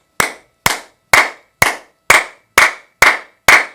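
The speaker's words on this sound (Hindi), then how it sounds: "अब आप जब ताली बजाओ इसकी, तो इतनी जोर से बजाओ कि पूरे के पूरे चैनल्स आपके खुल जाए।" Eight loud, sharp hand claps in a steady, evenly spaced rhythm, each ringing briefly, struck hard as part of an acupressure clapping exercise.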